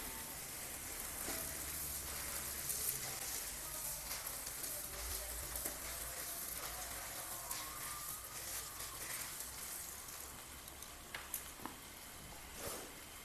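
Puffed rice (khoi) dropped into spice paste frying in oil for a muri ghonto, with a steady close sizzle and crackle running throughout and light stirring scrapes over it.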